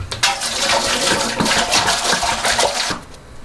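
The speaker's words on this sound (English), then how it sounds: "I fill it up with a couple inches of water on the bottom" Water pours steadily into a canner to fill the bottom a couple of inches deep, a loud, close, continuous splashing rush that lasts about three seconds and then stops.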